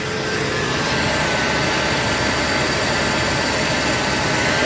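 A restored 1974 Ford F-250 Ranger with a 4.9 engine and new carburetor runs on a cold start, giving a loud, steady, rough roar with no pauses.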